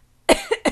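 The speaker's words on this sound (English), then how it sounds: "I start laughing and then cough off to the side" A single sharp cough bursts out close by, followed by two shorter, quieter coughs in quick succession.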